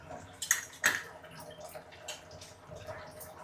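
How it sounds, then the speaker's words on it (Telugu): Waste water drains from a household water filter, a faint trickling and dripping flow with a couple of sharper splashes early on, heard quietly in a home setting. "అవి వేస్ట్ నీళ్ళు వెళ్ళిపోతున్నాయి ఫిల్టర్ తిప్పితే."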